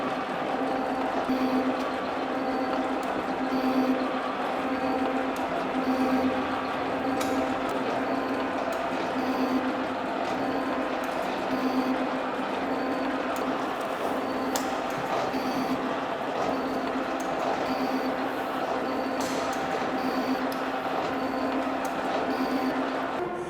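A shaping machine cuts across a metal surface with a steady, continuous mechanical drone and faint rhythmic ticking, running alone without speech.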